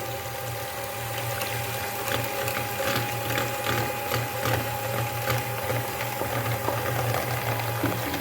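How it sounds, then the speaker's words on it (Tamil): An electric mixer beats egg yolks and sugar for a honey cake batter, a steady mechanical whir with a faint rhythmic clatter running continuously up close. "இப்போ சர்க்கரை சேர்த்துட்டோம், நல்லா பீட் பண்ணி எடுத்துக்கலாம்."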